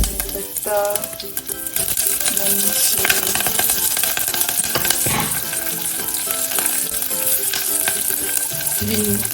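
Mustard seeds splutter in hot oil for a chicken curry tempering. A loud, dense sizzle with rapid crackling pops runs throughout, close up, with background music layered beneath.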